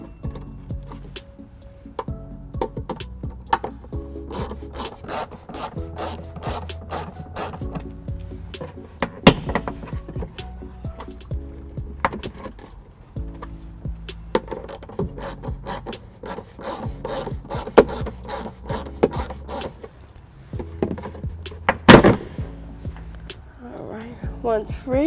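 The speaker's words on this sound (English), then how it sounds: "For me to remove these 2, I'll need an extension and a 12 millimeter socket." A ratchet with an extension and 12 mm socket works bolts loose on a 2015 Toyota Highlander during a trailer hitch installation, giving bursts of rapid close clicking between pauses, with some rubbing and someone talking.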